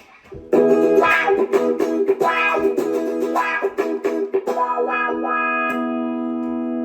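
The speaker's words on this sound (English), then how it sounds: "With wah, which sounds pretty funky." A Fender American Professional Telecaster electric guitar strums a funky rhythmic riff through a wah pedal, the tone sweeping open and closed, ending on a ringing sustained chord.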